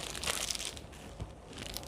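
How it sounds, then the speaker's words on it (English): A plastic poultry shrink bag holding a quail being twisted closed by hand around a straw, a continuous close crinkling and crunching of thin plastic with no talking. "I'm gonna twist our bag right onto the straw."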